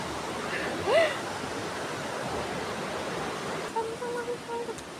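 Broad, constant rush of flood water fills the scene, loud and close, with a brief voice and a few faint calls or chirps above the roar.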